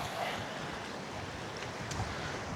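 Sea waves wash against a rocky beach on the Maltese coast, a continuous broadband surge and hiss with steady wind noise and no talking.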